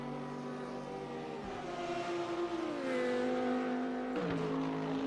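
A race car engine in the R3E racing game drones loudly and continuously, its pitch climbing and shifting through gear changes as the car pushes around the track, with no voices over it.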